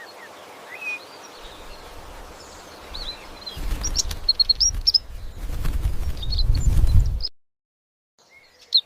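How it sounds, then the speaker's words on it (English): A finch sings a run of quick, bright chirps and tweets over a low rumbling background that swells and then cuts off abruptly, followed by a faint final chirp; no one speaks. "Finch,"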